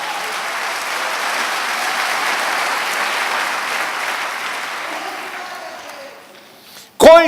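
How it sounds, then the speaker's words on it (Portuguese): A church congregation claps for Jesus during a Portuguese-language sermon. The applause is loud and sustained, slowly fades out, and ends in a sharp close burst. "Você pode dar um aplauso ao Senhor Jesus?"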